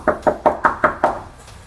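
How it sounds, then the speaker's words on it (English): Six firm knocks strike an apartment door in an even, quick rhythm, close and loud, followed by a brief quiet moment with no talking. "how would you know we're knocking on the door?"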